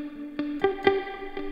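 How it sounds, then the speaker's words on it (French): An electric guitar playing a few sparse, bright notes drenched in heavy reverb and delay, each note ringing out with echoing tails, heard alone without speech. "je vais rajouter une belle reverb et surtout un beau delay"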